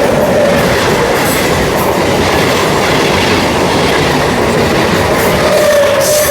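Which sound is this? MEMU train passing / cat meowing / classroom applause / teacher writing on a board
MEMU train passing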